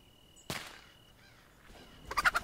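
Chickens in Pixel Piracy make short squawks and a burst of rapid, loud clucking at the end, with a sharp thump and quieter calls in between.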